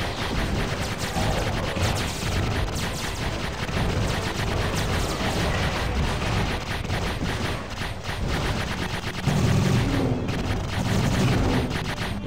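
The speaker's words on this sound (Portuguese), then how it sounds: "Nossa, é muito tiro, velho." Heavy, continuous gunfire and explosive bursts fill a space combat scene in the Xbox game Aces of the Galaxy, a dense, loud barrage with no break.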